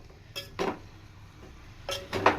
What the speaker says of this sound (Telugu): ఇది మీడియం ఫ్లేమ్ మీద కింద నుంచి పై దాకా ఒకసారి తిప్పుకుంటూ ఈ విధంగా ఫ్రై